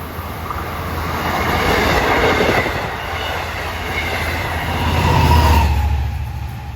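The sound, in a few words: commuter train arriving at station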